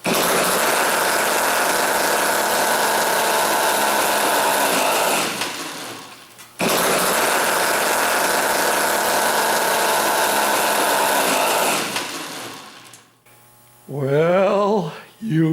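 A motorized StingRay bicycle engine runs loud and steady close by, cutting out briefly around six seconds before roaring again, then stops, and a voice follows at the end.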